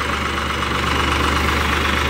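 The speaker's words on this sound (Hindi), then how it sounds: "अज आवाज़ सुनो ट्रैक्टर की, 3 सिलेंडर है, inline pump, mechanical steering, F A Massey फरगूसन महा महान।" Massey Ferguson 5245 Maha Mahaan three-cylinder tractor diesel with an inline injection pump, idling close by with a steady, even rumble throughout, no voices.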